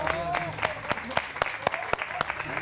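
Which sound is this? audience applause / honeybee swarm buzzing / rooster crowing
audience applause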